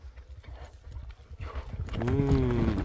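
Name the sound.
horse galloping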